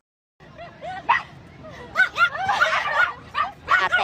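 A young woman imitating a dog's bark, trading it with a real dog: several sharp yelping bursts in quick succession, close and fairly loud, with brief pauses between barks.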